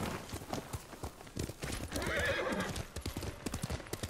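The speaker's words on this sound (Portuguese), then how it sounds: "Vou pegar aqui no cavalo." Horse hooves clip-clopping at a steady walking rhythm in the video game Ghost of Tsushima, with a brief neigh and soft ambient game sound, no talking.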